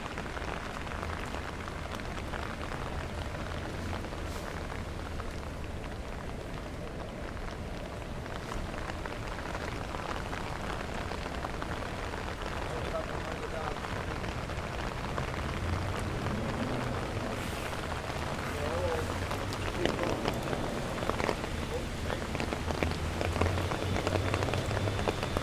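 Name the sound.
rain during Tropical Storm Henri in Manhattan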